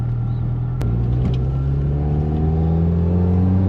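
A 1983 Lotus Turbo Esprit drives with a loud, steady turbocharged engine drone that rises gradually in pitch as it accelerates, heard from inside the car with no talking.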